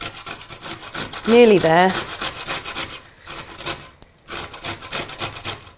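A parsnip grated by hand, giving rapid rasping strokes in a close, steady rhythm with short pauses; a voice speaks briefly partway through.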